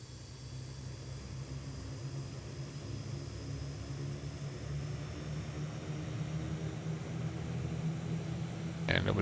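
An aircraft departs Bemidji airport, heard as a steady low engine drone that grows gradually louder over several seconds and stays fairly distant, ending in a brief sharp click.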